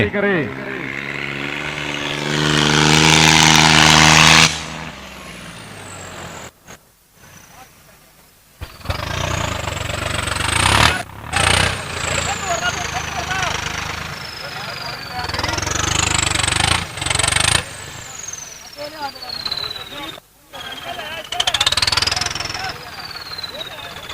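An Eicher tractor engine runs at a trolley-pulling contest, droning and revving with rising and falling pitch sweeps, heard over a loud crowd and an announcer.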